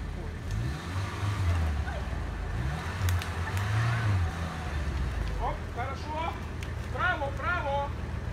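An off-road 4WD engine revs in rising and falling bursts on rough terrain, loud and close, with excited voices calling out over it near the end.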